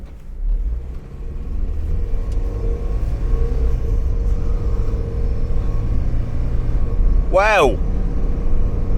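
A Mazda Miata drives down the road with a loud, steady engine rumble heard from inside the car. Near the end a person briefly exclaims.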